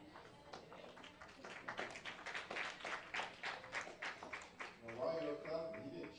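Inside a Seventh-day Adventist church in Orlando, the congregation applauds with a run of quick, fairly faint handclaps in an even rhythm, and a voice is heard near the end.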